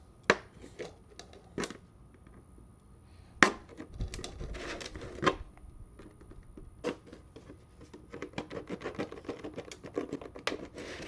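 A lid being cut off a plastic pot produces scattered sharp snaps, cracks and scraping crunches, irregular and fairly quiet, with a faster run of small clicks toward the end; no talk.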